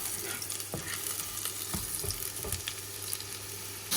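Garlic sizzles in a pan with a steady, close frying hiss, broken by a few soft clicks and scrapes of stirring, no talking.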